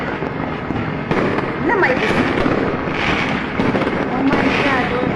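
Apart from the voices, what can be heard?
firecrackers exploding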